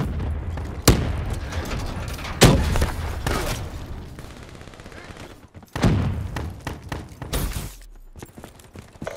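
Explosions and gunfire erupt during a Black Ops 3 team deathmatch round, with several loud, sharp booms spaced across the stretch, a frag grenade blast among them, over a continuous rumble of combat noise.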